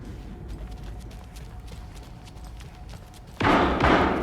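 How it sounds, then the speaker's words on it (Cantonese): In the video game Alan Wake 2, a quiet, rumbling stretch breaks into a sudden, loud gunshot near the end, its harsh blast ringing out until the clip stops. "有人開槍"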